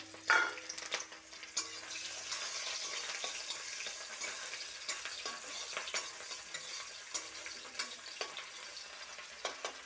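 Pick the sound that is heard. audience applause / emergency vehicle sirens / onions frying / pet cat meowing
onions frying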